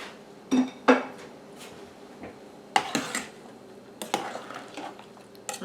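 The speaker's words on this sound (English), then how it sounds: "now we're going to stir it all together" A spoon stirs taco soup with hamburger, onions and peppers in a pot, making a few sharp metallic clinks and scrapes against the pot between quieter wet sloshing moments.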